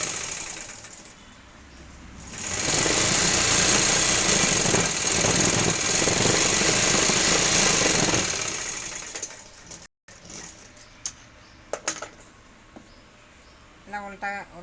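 Electric sewing machine running steadily while stitching the lining of a women's blouse, a loud continuous mechanical whir lasting several seconds, then stopping, followed by brief clicks and handling noises.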